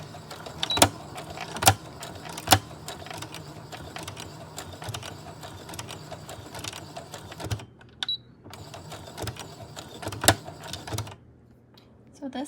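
A sewing machine fitted with a walking foot stitches a pleated fabric mask, its needle ticking in a fast steady rhythm with sharper clicks, pausing briefly near the end while a voice speaks nearby.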